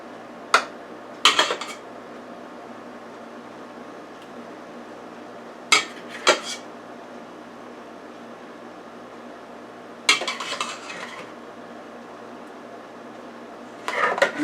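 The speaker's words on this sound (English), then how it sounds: "now we're gonna have to put some sauce on the top here" Scattered sharp clinks and scrapes of a spoon against a pan while sauce is spooned onto baked spaghetti, a few brief bursts separated by quiet pauses.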